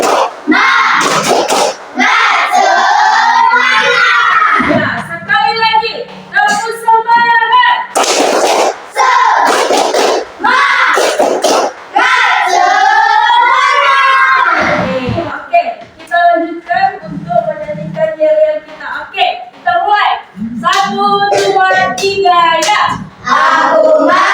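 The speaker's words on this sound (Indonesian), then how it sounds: "Tepuk semangat, ayo, lagi, tepuk semangat." At an education training session, a group claps a rhythmic cheer pattern on cue, bursts of sharp collective claps alternating with loud group chanting and call-and-response voices.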